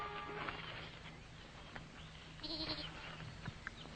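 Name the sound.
goat bleating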